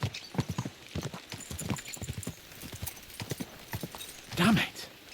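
Horses' hooves clip-clop in a quick, steady rhythm in the medieval game Kingdom Come Deliverance 2, close and crisp, with a brief louder snort or whinny near the end.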